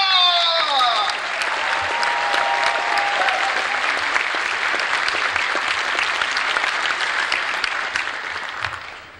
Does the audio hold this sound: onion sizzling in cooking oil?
no